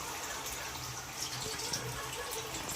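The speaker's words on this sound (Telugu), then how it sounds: "చింతపండు పులుసు పోసుకుంది" Tamarind juice pours into a simmering fish curry as a soft, steady liquid trickle and splash, fairly faint and close, with light kitchen background noise.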